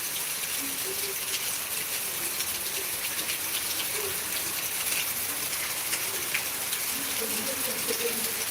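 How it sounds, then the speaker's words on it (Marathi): Heavy rain over waterlogged roads in Beed makes a steady, dense hiss of falling water, with faint voices in the background. "खूप पाऊस सुरू झालेला आहे आता जोराचा"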